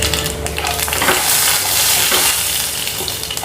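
Mustard seeds and urad dal fry loudly in a little hot oil, a dense close sizzle with crackling pops and faint stirring scrapes, continuous throughout.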